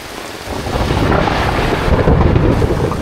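Heavy rainstorm with rolling thunder pounds a riverside campsite, a dense steady roar of rain and low rumbling that builds slightly louder through the stretch, with no voices.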